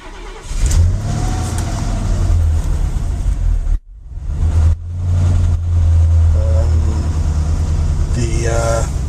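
Mercedes 450SL engine fitted with Megasquirt fuel injection cranks, cuts out briefly, then catches and runs with a steady loud low rumble, a voice talking over it near the end.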